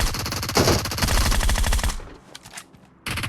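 Rapid automatic gunfire from the mobile battle royale game PUBG Mobile, loud dense bursts for about two seconds, a brief lull with a few scattered shots, then firing resumes.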